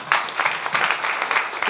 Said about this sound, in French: J'ai envie de vous demander d'applaudir pour elle.